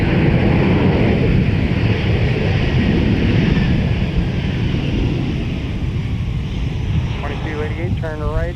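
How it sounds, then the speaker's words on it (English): A Delta airliner on departure from MSP airport, bound for Dallas, gives a loud, broad jet roar that slowly fades, with a brief voice-like sound near the end. "we're going to get the departure here of Delta"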